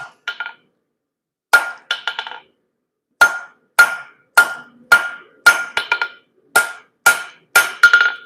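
Sharp, ringing hammer blows strike metal tongs on an anvil as they are flattened, coming in quick clusters of two or three with brief pauses between, close and clear with no talk.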